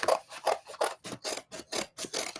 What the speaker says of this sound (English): Let me get my scissors and I'm going to cut off what I don't need.